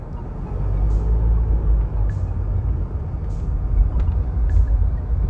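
A car driven by an amputee using hand controls for gas and brake, heard from inside the cabin as a steady low engine and road rumble with faint intermittent ticks.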